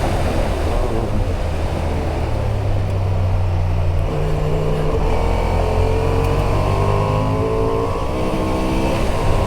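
A Honda XL750 Transalp motorcycle engine roars, its pitch climbing steadily as it accelerates, over a rushing wind-like noise, with no voices.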